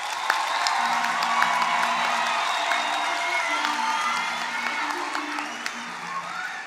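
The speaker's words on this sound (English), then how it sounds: "give yourself a resounding round of applause" Graduation audience giving a resounding round of applause, sustained clapping mixed with cheers and whoops filling the hall, with a low musical hum underneath.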